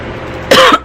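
One sharp, close cough bursts out after a short stretch of quiet room tone.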